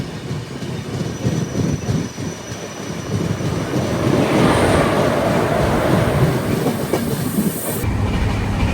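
Udaipur to Mumbai Superfast Express running on rails with LHB coaches, a steady loud rumble and clatter of wheels heard from on board, with a faint high squeal.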